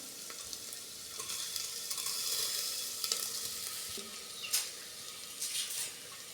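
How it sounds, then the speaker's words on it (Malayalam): Rice stir-fried with green chilli paste in a pan for egg fried rice sizzles steadily, with scraping stirs and sharp spatula clatters breaking through the hiss near the end. "ഇതിൽ പച്ചമുളകൊക്കെ ഒന്ന് മാറി വരുമ്പോൾ നമുക്കിതിലേക്ക് നമ്മുടെ അരി ആഡ് ചെയ്ത് കൊടുക്കാം"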